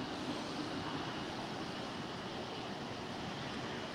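A Philippine Airlines jet at LAX roars steadily as a broad, constant wash of engine noise, loud and unbroken throughout, with no voices.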